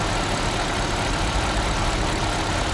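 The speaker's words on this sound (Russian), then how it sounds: "вот как оцениваете звук мотора BMW на новом масле?" A BMW car engine on fresh oil idles steadily and loudly up close, a continuous low rumble with no voices over it.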